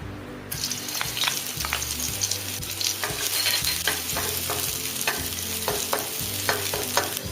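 Green chilies, ginger and garlic sizzling in hot oil over a very high flame for Indo-Chinese manchow soup, a loud, steady crackling hiss with spatula scrapes and clatter against the pan, heard up close with no speech.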